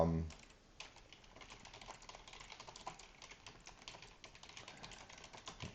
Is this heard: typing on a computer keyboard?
yes